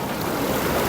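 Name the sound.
water at Adi Kailash, Himalayas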